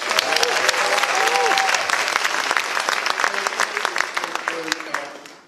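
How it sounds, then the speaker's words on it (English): A theater audience at a season announcement party gives a steady round of applause for the sponsors, dense clapping with faint crowd voices that tapers off at the end. "Dillinger's Cocktails and Kitchen, which needs an extra round of applause"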